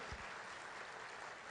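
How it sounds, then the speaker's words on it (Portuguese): Church congregation applauding together during a Sunday morning service, a dense, even wash of clapping that carries on steadily at a moderate distance with no talk over it. "Aplauda ao Senhor por causa disso."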